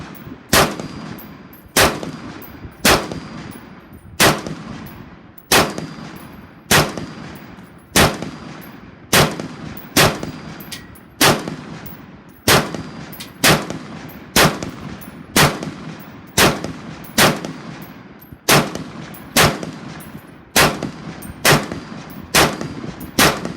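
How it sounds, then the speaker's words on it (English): A Brownells BRN-Proto rifle fires at an outdoor range. About two dozen sharp, loud single shots come at a steady, unhurried pace, each followed by a brief ringing echo. "we're going to take this out to the range."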